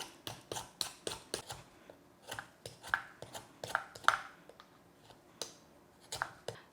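A knife working through a raw butternut squash with its top and bottom cut off, giving a run of close, sharp cutting clicks and crunches in an uneven rhythm.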